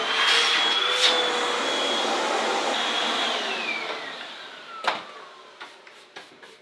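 A vacuum cleaner runs steadily close by while dusting a Singer 301A sewing machine cabinet being refinished, with a whine that slowly drops in pitch, then shuts off and leaves a few sharp clicks and knocks.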